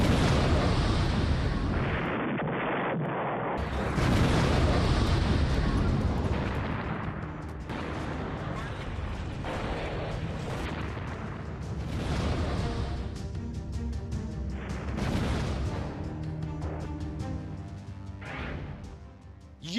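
A North Korean long-range missile test launch roars with a heavy, booming rush of rocket thrust that swells and rumbles for several seconds and then trails off, loud, broad and without any voices.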